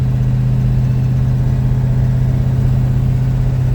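A car's engine drones steadily at around 2000 RPM in first gear, loud and close, with a constant low hum and no pauses or voices.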